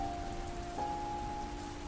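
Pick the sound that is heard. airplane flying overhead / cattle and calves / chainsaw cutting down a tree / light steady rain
light steady rain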